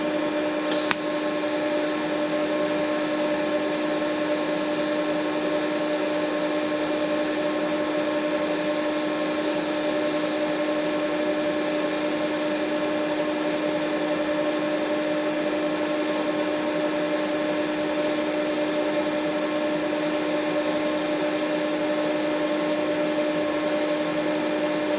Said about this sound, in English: We got a great little stainless steel TIG weld here from the MP200 Pro.